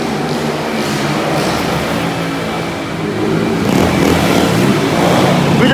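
Several motorcycle engines rev loudly and continuously nearby, the roar swelling and growing stronger toward the end.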